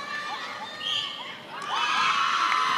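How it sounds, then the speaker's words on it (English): A crowd at a netball World Cup qualifier cheers a goal, with shrill shouts and whoops swelling into a loud sustained roar of mostly high voices. "as they're cheering on every goal by the homegirls,"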